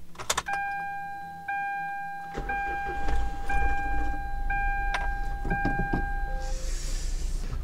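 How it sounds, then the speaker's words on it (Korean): A manual-transmission Morning compact car is started on a cold day around 5°C: dashboard chimes ring in a repeating pattern, then the engine cranks and catches, settling into a steady idle rumble close by. "일단 시동 켜고"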